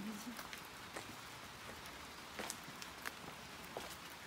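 Soft, steady rain patters on a surface, with a few scattered louder drops and faint movement sounds over a constant hiss.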